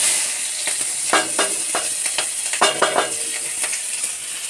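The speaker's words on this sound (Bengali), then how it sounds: "জিরাটা হয়ে গেলে এবার পেঁয়াজটা দিয়ে দেবো।" Onion goes into hot oil with cumin seeds and fries with a steady bright sizzle, and a spoon repeatedly scrapes and stirs the pan.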